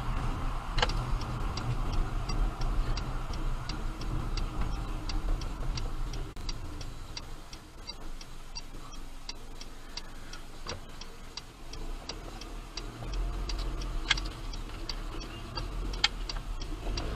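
Steady, rapid turn-signal ticking clicks repeat at an even rhythm over a low engine hum inside a car, continuing throughout without talk.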